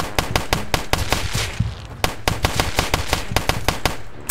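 Gunshots in a Roblox street game fire in a fast, loud, evenly spaced stream of sharp cracks, close and continuous with barely a break.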